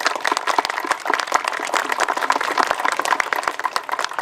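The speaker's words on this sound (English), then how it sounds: "So if you give them a round of applause as well." A crowd claps in sustained, dense applause at the outdoor opening of a skate plaza, with many sharp individual claps blending into a loud, steady round.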